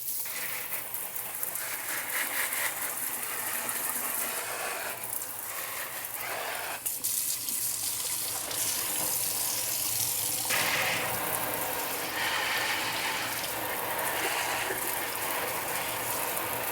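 Running water rinses a potted alocasia plant, a steady broadband splash and trickle that persists throughout with shifting intensity and no talking.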